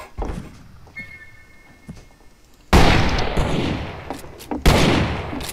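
Gunshots in the Western shooter game Fistful of Frags, a few scattered shots early, then a loud burst of heavy blasts and rapid fire in the second half, close and punchy with reverberant tails.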